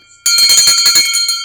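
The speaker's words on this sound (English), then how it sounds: "I love ringing that bell." A small bell is struck and rings out loud and near at an office celebration, its bright metallic tone sustaining with rapid repeated strikes for over a second after a brief quiet start.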